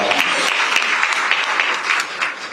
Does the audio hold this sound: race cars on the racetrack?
no